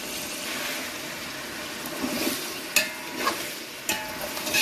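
Whole garam masala spices go into a cooking pot for chicken pulao, with a steady frying sizzle and stirring throughout, plus a few sharp clinks and scrapes near the end.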